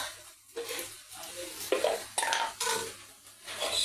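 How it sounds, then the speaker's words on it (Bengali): Homemade hair oil with fenugreek, black cumin, amla and coconut oil heats in a pan, with a faint sizzle under intermittent scraping and clinking of a metal spoon against the pan, quiet and close. "আমি তেলটা এখন সেঁকে দেব"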